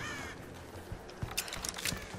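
Crow cawing in the video game Tomb Raider (2013): a few harsh, rough calls near the end, fairly faint over a quiet low rumble.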